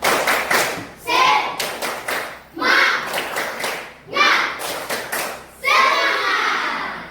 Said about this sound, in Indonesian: Coba semuanya, tepuk semangat.